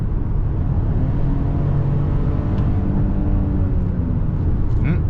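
A Ford Bronco Sport Big Bend engine revs up and hangs at higher revs before easing off, a steady droning hum heard from inside the cabin for about five seconds.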